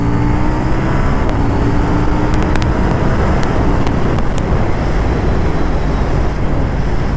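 A KTM Duke 790 motorcycle engine drones loud and steady while riding, with a few brief clicks and blips from auto-blipper downshifts over rushing wind.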